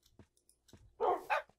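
Tamed wolves, the dogs of Minecraft, make two short quick barks near the end, preceded by faint clicks and crunching sounds with no talk.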